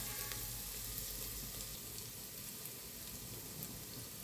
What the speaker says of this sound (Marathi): कांदा छान परतायला हवा आहे।